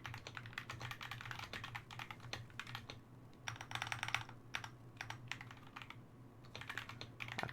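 Rapid, uneven clatter of typing on a computer keyboard, close and fairly steady with short pauses, over a low constant hum and no talking.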